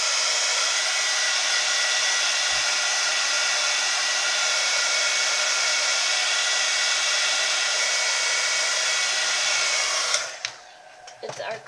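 A hand dryer roars steadily up close to quick-dry archival ink, a loud continuous blowing rush that cuts off near the end, leaving quiet handling noises.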